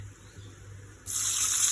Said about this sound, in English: The seasoning is ready, so I am going to pour water into it.